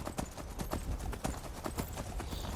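Hooves of a red horse clip-clop in the video game Skyrim near Whiterun, a steady, moderately quiet rhythm of evenly spaced hoof falls.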